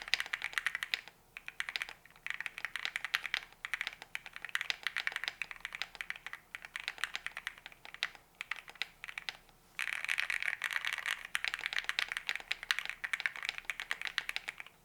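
Clacky mechanical keyboard typed on continuously with the case foam removed, a dense run of crisp keystrokes with brief pauses and no voices.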